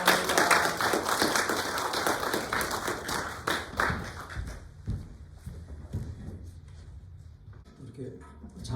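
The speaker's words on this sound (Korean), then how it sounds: "우리 박수로 환영합니다" A church congregation at a Sunday service claps in welcome, a dense roomful of hands that is loud at first, thins out and fades after about five seconds.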